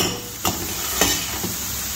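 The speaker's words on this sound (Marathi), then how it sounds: "छान तेलामध्ये परतून घ्यायचं तांबूस रंगापर्यंत. बघा, आता छान असा लसूण आणि मिरची परतून झाली." Garlic and green chilli sautéing in oil for shepu bhaji, a constant close sizzle broken by three soft knocks of a spoon against the pan.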